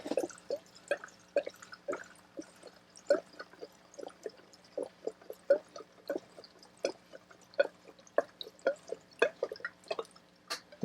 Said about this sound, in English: I'm not going to throw a lot of fuel in here, just enough to try and get her started.